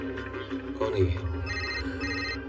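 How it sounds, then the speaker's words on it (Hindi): A phone rings in the background, a steady electronic ringtone repeating under a low hum and faint movement, with no one speaking. "किसका फोन आ रहा है?"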